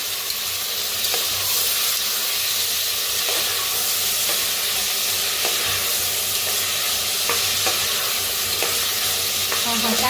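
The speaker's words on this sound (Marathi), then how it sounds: "सगळं भाजून घेऊया." Coriander, tomato and fresh peas roast in a pan, a steady loud sizzle with scattered stirring scrapes over the whole stretch, with no voice.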